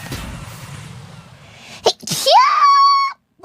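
A single sneeze, a sharp burst of breath, comes right after a stretch of talk and is followed by a rising electronic squeal-like tone.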